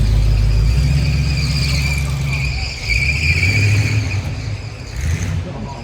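A Ford Mustang pulls out at a classic car show, its engine rumbling loudly and steadily with tyre-squeal-like high tones over crowd noise and faint talk throughout.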